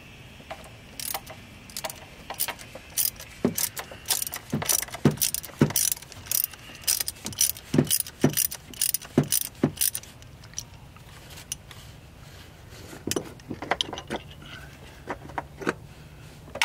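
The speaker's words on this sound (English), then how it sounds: "I'm going to remove the oil filter cap for a 2015 Polaris Slingshot. I'm using a 32mm socket." Socket wrench with a 32mm socket removing the oil filter cap on a 2015 Polaris Slingshot, rapid ratchet clicks in close bursts, then a pause and a few scattered clicks, no talking.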